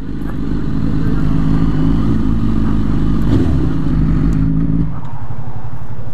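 An Aston Martin car engine revs in a steady, loud, throaty drone with a clattering rumble that drops to a lower idle near the end.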